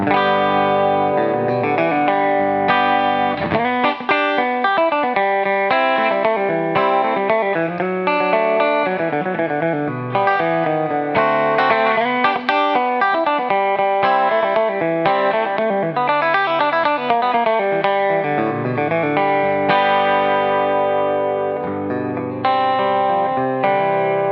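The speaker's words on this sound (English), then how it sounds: "Number 2 is just the middle humbucker, so let's hear it." Gibson Switchmaster electric guitar on its middle humbucker pickup, playing a continuous run of chords and notes with an effected, slightly distorted tone, loud and upfront with no voices.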